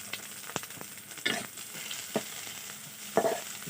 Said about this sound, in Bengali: তো পেঁয়াজগুলোকে আমি ভেজে নিচ্ছি